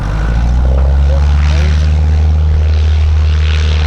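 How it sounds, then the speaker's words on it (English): Cessna light aircraft coming in to land at an airshow landing competition, its propeller engine giving a steady, loud drone with a low hum throughout. "in the Club Cessna DMP, doing a landing in the box"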